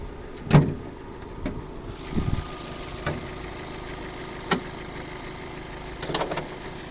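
A 2010 Opel Zafira's 1.6 MPI petrol engine idles with a steady low hum, interrupted by a few sharp clicks and knocks nearby.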